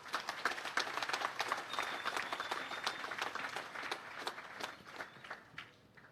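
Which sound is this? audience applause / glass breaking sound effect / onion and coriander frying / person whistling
audience applause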